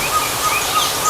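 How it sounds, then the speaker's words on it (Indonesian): A barred buttonquail's (puyuh gonggong) repeated call echoes in an aviary over a steady rushing background, with short calls recurring at a regular pace, somewhat distant. "ini tuh suara burung puyuh gonggong"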